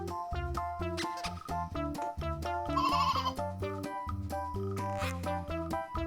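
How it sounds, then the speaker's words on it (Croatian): A cartoon-style sheep bleats in a wavering, nasal call, mixed in with bright, steady background music at moderate loudness. "Koja bi to životinja mogla biti? To je ovca."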